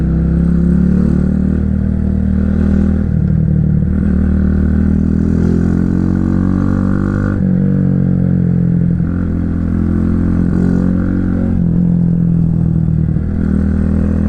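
A motorcycle is ridden along a road and overtakes other traffic. The engine drones loud and constant throughout, with slight rises and falls in pitch and no talking.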